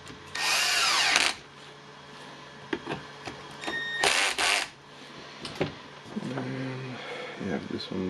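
Screws are driven in with a power drill to close the housing of a Dewalt orbital sander during a bearing repair, giving two loud whirring bursts separated by quieter handling clicks and a voice.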